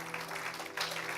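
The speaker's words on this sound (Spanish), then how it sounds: "Dale un aplauso fuerte." A church congregation claps during a worship service, a short burst of dense, steady applause with a low hum underneath.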